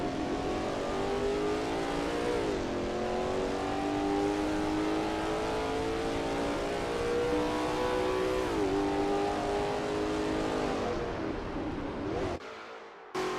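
Lola T70 MkII Spyder race car in a racing video game at Österreichring, its engine droning loudly through Bosch curve with rising and falling revs at gear changes, cutting off near the end.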